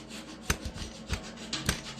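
Short rubbing, scraping strokes while marking lines along the seam of a steel lawn roller, quiet and close, with several uneven scratchy passes.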